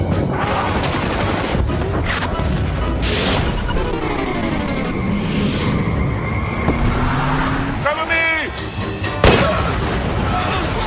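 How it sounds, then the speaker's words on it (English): Loud, dense battle noise of explosions and gunfire in Battlefield: Bad Company, with booms, crackling blasts and vehicle rumble layered continuously, a few sharp bursts standing out near the end. "the best thing Battlefield has going for it are the explosions"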